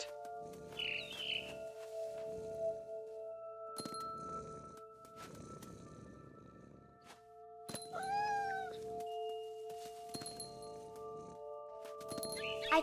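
A cat meows in the video game What Remains of Edith Finch, a couple of short rising cries heard faintly over soft, sustained game music and quiet rustling.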